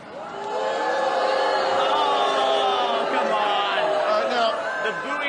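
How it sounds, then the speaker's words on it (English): A talk show studio audience boos loudly and continuously, a dense crowd of raised voices holding for several seconds and tapering slightly at the end. "The booing sounds distinctly high-pitched"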